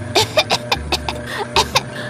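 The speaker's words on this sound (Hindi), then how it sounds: "जोर जोर से खांसने लगती हैं" Loud, repeated coughing close by, a quick series of harsh bursts in an uneven rhythm, almost like hacking fits.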